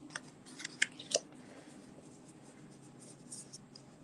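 A paper trimmer slices designer paper for cards, making a few quick, faint crisp cuts and clicks near the start over a quiet room hum.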